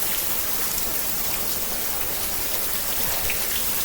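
Heavy rain pours down during a storm in Arizona, a steady, dense hiss of drops drumming on surfaces with no break for the whole stretch, and nobody speaks.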